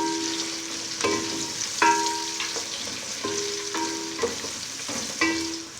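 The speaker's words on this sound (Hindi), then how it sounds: "अब इसके अंदर प्याज ऐड करेंगे। प्याज को भी हल्का सा गोल्डन करेंगे।" Onions frying in a pan over garlic-ginger paste for a minced meat and peas dish, a steady close sizzle broken by several sharp stir-and-scrape knocks from a spoon at irregular intervals, with no talk.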